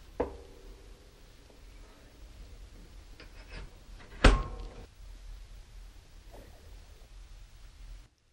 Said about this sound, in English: I'll set the air control fully open and close the door.